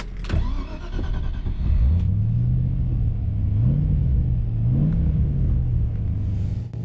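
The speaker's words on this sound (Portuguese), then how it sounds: "O Rover V8 é um motor fantástico. Ele tem um som tão refinado" A 1992 Marcos Mantara with a Rover V8 engine, heard from nearby as a deep rumbling idle that rises into smooth revving, swelling and easing through several throttle blips with no talk.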